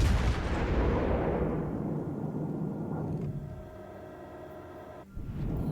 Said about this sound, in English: we're firing at these guys pretty far away